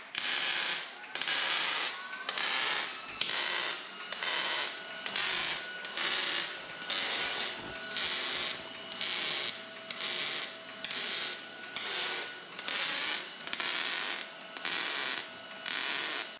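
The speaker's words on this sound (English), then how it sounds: "I'm gonna take a wire wheel and clean up all that glue around there" A wire wheel grinds glue off a truck cab in loud, harsh, repeated passes, a steady rhythm of roughly one-second bursts of scraping, whirring noise that continues close up throughout.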